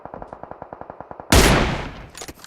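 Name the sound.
gunfire in the video game PUBG Mobile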